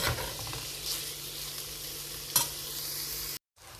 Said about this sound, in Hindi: ये लीजिए मैंने एग्स इसमें डाल दिए हैं और इसको थोड़ा पका लेंगे